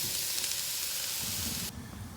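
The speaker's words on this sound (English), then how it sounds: "these steaks are gonna be delicious on this rocket stove" Flat iron steaks fry on a rocket stove outdoors, giving a steady close sizzle that drops slightly in level near the end, with no voices.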